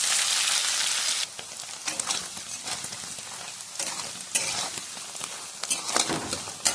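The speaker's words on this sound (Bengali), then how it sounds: "এবারে দেব পনির। পনিরে জল রয়েছে, যেহেতু ঠান্ডায় ছিল তার জন্য জল বেরিয়েছে।" Cold, wet paneer frying in a pan gives a loud, steady sizzle with dense crackling spatters throughout, close and with no voices.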